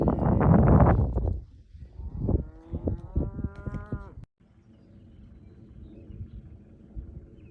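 Cattle being herded moo loudly up close, a deep drawn-out low followed by a long rising call, then a quieter rumbling background.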